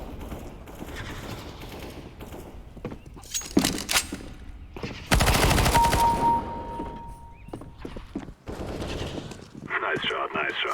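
Gunfire in an online first-person shooter game played over Starlink internet, scattered automatic bursts and single shots at varying distances, with a louder sustained volley midway, alongside a person talking.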